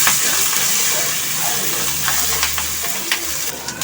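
Coconut, green chillies and curry leaves hiss and crackle loudly in a hot pan for tomato thokku, with stirring scrapes and sharp spatters breaking through the continuous close sizzle.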